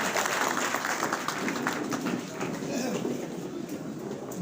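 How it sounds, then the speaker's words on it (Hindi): Applause rises from a crowd welcoming a chief guest at a BJP honour ceremony held on Makar Sankranti, a fairly faint, continuous patter of clapping heard under a busy background murmur. "जोरदार तालियों के साथ आपका अभिनंदन।"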